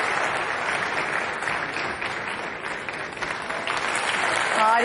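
A big awards-night crowd keeps up steady, dense clapping as a presenter takes the stage, the applause continuing unbroken at close range.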